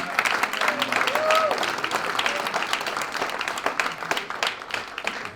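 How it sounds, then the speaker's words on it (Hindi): Audience applause at a Ghazal album release event in a hotel hall, steady dense clapping from a crowd throughout, with a faint voice or tone briefly audible underneath. "इस सीडी के प्रोड्यूसर तमकीन खतीब साहब के लिए ज़ोरदार तालियां।"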